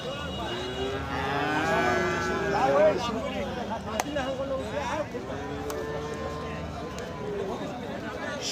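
Crossbred bull cattle moo repeatedly at a busy livestock market in Thakurgaon, the long lowing calls rising over constant crowd chatter and nearby talking.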